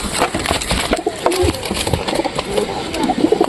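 A white pigeon brought home, with soft bird sounds and cooing amid busy background noise and a faint low engine-like hum, fairly close.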